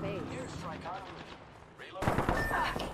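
Gunfire in the Apex Legends video game, a rapid volley of loud shots that starts abruptly partway through, following excited player talk.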